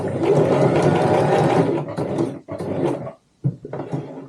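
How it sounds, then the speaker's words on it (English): A sewing machine stitching across the bottom of a tote bag runs in a steady loud whir, stops briefly, starts again, then halts with a short silence before a final burst. "keep your needle down, lift the presser foot, sew across the bottom"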